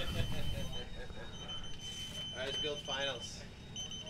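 Race timer buzzer at an RC plane rookie race at FliteFest, a thin steady electronic tone held throughout over outdoor noise, with a person talking partway through.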